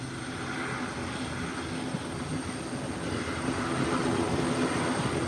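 Steady airliner engine roar at an airport in a flight simulation game, a plane touching down on the runway with a continuous broad drone and no talk.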